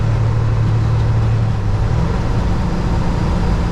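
Kenworth W900 truck engine running at about 1500 RPM while downshifting its 18-speed Eaton Fuller transmission, a steady loud diesel drone from inside the cab whose low tone shifts slightly partway through.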